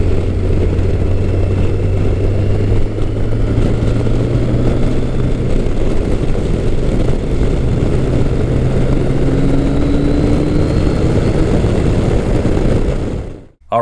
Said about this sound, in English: This bike runs like it should, it shifts like it should, it goes down the road very nicely.